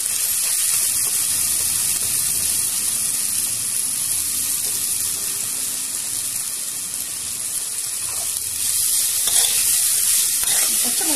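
Boiled elephant yam hits a frying pan with green chillies already in it, giving a loud, steady sizzle that runs throughout with light stirring and a brief surge near the end.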